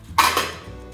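A small ceramic plate clatters once into the bottom of a cooking pot, a sharp ringing clink followed by a brief second knock and a fading resonance.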